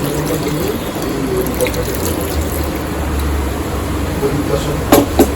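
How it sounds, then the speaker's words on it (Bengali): Hot water pours into chicken kosha simmering in a pan, a steady close trickle and splash running throughout, with a couple of brighter sploshes near the end. "এই জলটা আমি এখানে দিয়ে দেবো।"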